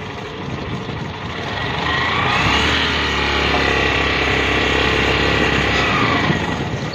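A motorbike engine runs steadily before a ride, a loud continuous drone that swells slightly after a couple of seconds and holds, no speech over it.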